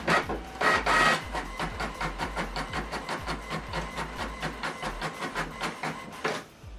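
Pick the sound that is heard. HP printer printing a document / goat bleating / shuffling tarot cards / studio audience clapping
HP printer printing a document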